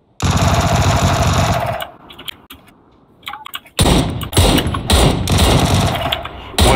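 Rapid bursts of video game gunfire from a shooter match, loud dense automatic fire in two long stretches broken by a quieter gap with scattered single shots.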